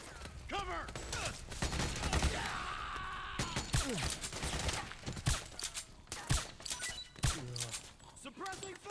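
Bursts of gunfire and impacts in the stealth-action video game Metal Gear Solid 4: Guns of the Patriots, sharp repeated cracks scattered through a busy battle mix with shouted voices over the top.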